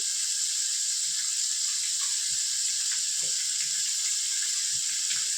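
Ingredients for a drumstick, tomato and mango curry fry in a pan until light golden brown, giving a steady, even sizzling hiss that carries on unbroken throughout.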